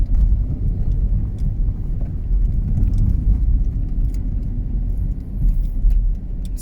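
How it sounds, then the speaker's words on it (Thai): Morning traffic jam on a city street in Sisaket, Thailand, a steady loud rumble of car and vehicle engines idling and creeping close by, continuous throughout with no talk. "เช้าๆแบบนี้รถก็ติดขัดบ้างนะครับ"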